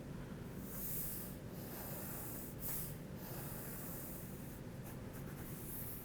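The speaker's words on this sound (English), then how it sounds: "where it intersects with the corner, we have to draw a line to vanishing point 2" A pencil draws a line on paper in soft, continuous scratchy strokes, close and faint, over a steady background hiss.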